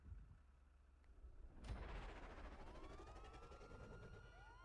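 A police car siren in the GTA 5 video game wails with rising and falling tones after a sharp crash-like burst, sustained and fairly loud over engine and game noise, with no talk.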